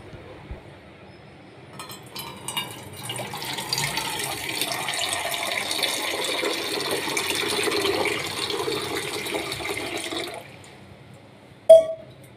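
Water is poured into a small vessel, about a pot's worth, to heat on a gas stove in a home kitchen. It gives a steady close splashing rush for several seconds, stops, and ends with a brief sharp knock.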